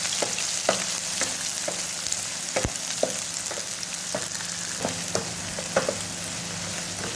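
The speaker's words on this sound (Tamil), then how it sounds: "இப்போ வெங்காயமும் பச்சை மிளகாவும் சேர்த்து போட்டுக்கலாம்." Onions and green chilies fry in hot oil for a Sankara fish kuzhambu, giving a dense, close, continuous sizzle broken by sharp clicks of a spoon against the pan at irregular intervals.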